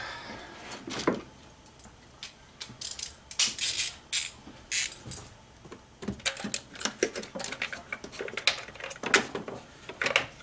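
A socket wrench ratchet works a valve cover bolt on an N54 engine, giving bursts of sharp, close metallic clicks in uneven runs with short pauses between strokes and no talking.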